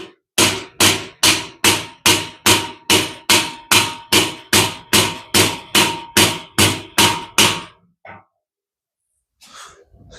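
Loud, steady hammer blows while fitting shelves in a unit, about sixteen evenly spaced sharp strikes, each ringing briefly, then stopping with faint handling noises after.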